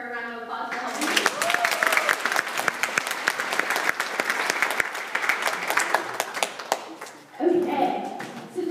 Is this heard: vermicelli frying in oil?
no